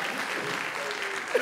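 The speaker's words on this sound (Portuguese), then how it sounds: "Palmas, por favor" Brief audience applause during a stage hypnosis show, a soft steady patter of clapping from a crowd, fairly faint and short, with a voice cutting in at the end.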